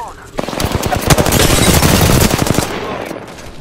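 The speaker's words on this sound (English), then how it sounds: "They're shooting at me." Rapid automatic gunfire in the battle game Apex Legends, a dense, loud burst of shots lasting a couple of seconds up close, with game voices mixed in.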